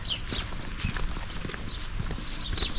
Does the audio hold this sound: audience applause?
no